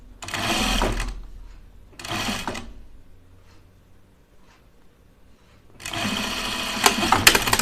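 Sewing machine stitching a sweatshirt collar along the seam allowance, running in three loud bursts: a short run, a brief pass, then a longer steady stretch after a quiet pause.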